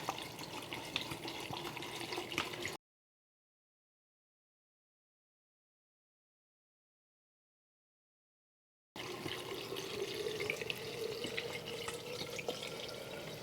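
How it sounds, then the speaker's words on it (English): Organic vinegar with the mother is poured into a container, a soft trickling and splashing of liquid, fairly quiet and close, broken by a long silent gap before the pouring resumes. "The rest is just fill it up with vinegar."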